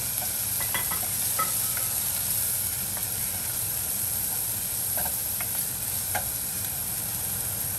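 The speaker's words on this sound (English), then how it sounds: "ginger, my green chilies, and my garlic. And I just saute that all around." Ginger, green chilies and garlic saute in a pan with onions, making a constant close sizzle and hiss with a few faint ticks and pops scattered through it, steady and unbroken, and nobody speaks.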